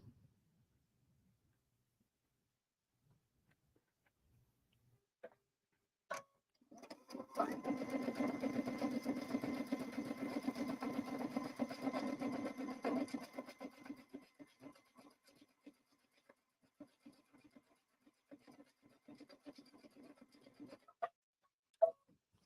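A sewing machine back stitches along a bag lining in one steady run of about six seconds, which then slows into a few stuttering stitches and scattered clicks in a quiet room.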